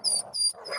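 A street dog gives three short barks or yelps in quick succession, fairly close and loud, with a faint high whistle-like tone running above each one.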